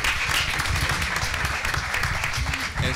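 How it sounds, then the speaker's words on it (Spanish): Audience applause in a science lecture hall, dense steady clapping from many hands filling the room for a few seconds before tapering off. "Sensacional, un aplauso."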